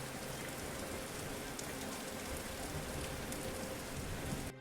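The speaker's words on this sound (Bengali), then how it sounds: "বৃষ্টিটা হঠাৎ করেই থেমে যায়।" Steady rain falls continuously, a dense, even hiss of drops on surfaces throughout, fairly quiet and with no talking.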